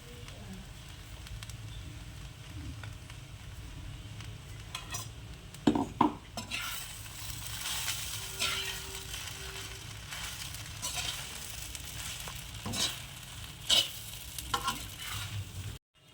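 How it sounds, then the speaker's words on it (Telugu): Spice powder being stirred into uggani, a Rayalaseema dish, in a pan: a steady, soft scraping and sizzling with a few louder clinks of the spoon against the pan around the middle, no talking. "ఇప్పుడు ఇందాక చేసుకున్న పౌడర్ని కలుపుకుందాం."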